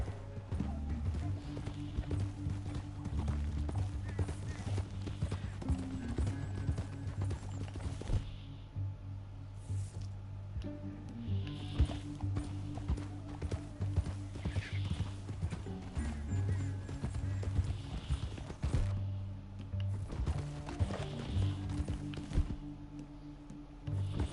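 Horse hooves clop in a rapid, steady rhythm through the whole stretch, with a horse whinnying now and then over a low rumbling backdrop, in a canyon in the video game Red Dead Redemption 2.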